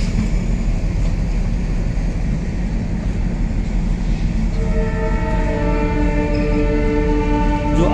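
A steady engine rumble from twin Alco diesel locomotives fills the scene, then a loud, sustained multi-tone diesel locomotive horn sounds and holds through the end.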